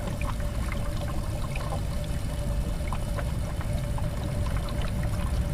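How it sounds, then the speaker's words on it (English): Antifreeze pours steadily into a Duramax truck's coolant reservoir with a gurgling, bubbling wash for several seconds, close by and continuous, alongside a faint steady hum. "Figure we will top off the antifreeze as well while we're here."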